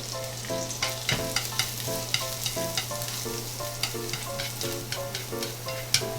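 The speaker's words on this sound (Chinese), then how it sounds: "把胡萝卜用油炒一下。" Carrots stir-frying in hot oil in a pan, a steady close sizzle with repeated scraping strokes of a spatula tossing the pieces in a regular rhythm.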